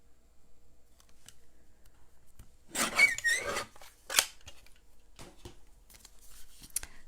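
A few quick snips of scissors cutting a scrap of designer patterned paper down to four inches, close and crisp, clustered in short bursts amid quiet handling.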